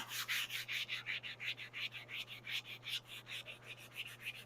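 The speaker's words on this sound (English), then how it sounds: "start sanding on this chin spoiler" Rhythmic back-and-forth sanding strokes on a 1971 Comet GT chin spoiler, about three per second, a dry scratchy rasp repeating steadily over a faint low hum.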